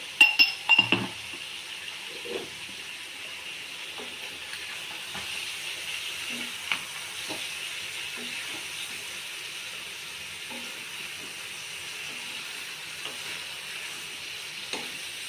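Chicken liver curry sprinkled with freshly ground black pepper fries in a pan with a steady, even sizzle, after a few brief clinks of a utensil at the start.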